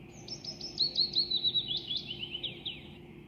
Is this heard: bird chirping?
yes